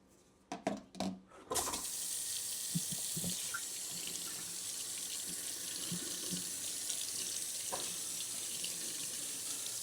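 A few sharp clicks and knocks, then a steady stream of running water starts and splashes continuously onto a Redmi Note 15 Pro Plus phone's USB-C port, close by and fairly quiet, with small taps underneath.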